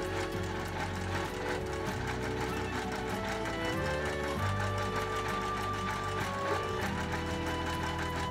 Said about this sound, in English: I was trying to make a straight quilting line using just free motion quilting